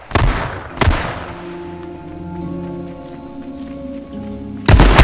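Shotgun blasts in the survival video game H1Z1: two sharp, loud booms close together at the start and another at the end, with a low hum of game ambience between them.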